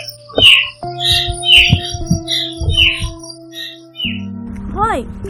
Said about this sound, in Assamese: এইটো ফেচু চৰাই মাত